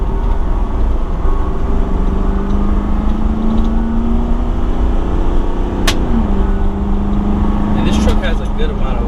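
A 2019 Nissan Titan XD pickup with a Cummins diesel accelerates on a highway. Its engine hum climbs steadily under loud road and wind noise, and someone talks throughout.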